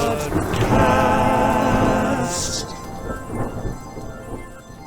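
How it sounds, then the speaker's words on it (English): A podcast jingle opens with a loud burst of rolling thunder over heavy rain, which then settles into a steadier rain and storm rumble for several seconds before it fades. "can we please have the storm in a podcast jingle?"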